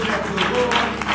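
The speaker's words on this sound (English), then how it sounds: "if you don't mind giving God a hand clap of praise" Church congregation claps hands in praise, a dense, continuous burst of applause-like clapping with a voice mixed in.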